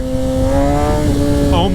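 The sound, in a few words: Kawasaki ZX10R motorcycle accelerating in first gear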